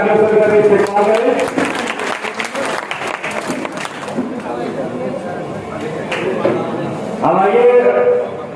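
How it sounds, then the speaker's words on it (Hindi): Audience at a community association meeting applauding an appointment, a loud burst of clapping mixed with crowd chatter, while a voice over a loudspeaker talks at the start and end. "जोरदार तालियों से करें इस्तेमाल करें।"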